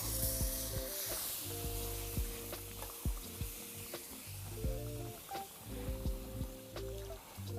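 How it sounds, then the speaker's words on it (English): A spatula stirs and scrapes thickening oxtail gravy in a pan. Quiet sizzling runs under repeated soft scrapes and knocks, and no one speaks. "We're gonna keep it stirring, right? Let me go ahead and get my spatula."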